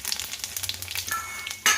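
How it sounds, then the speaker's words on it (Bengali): Dry red chillies, cumin and cardamom hit hot oil as a tempering for dal, giving a brief, loud, crackling sizzle with a sharp spit near the end. "ডালটার জন্য আমি এখানে ফোড়নে দেব শুকনো লঙ্কা, জিরে আর একটু এলাচ নিয়েছি।"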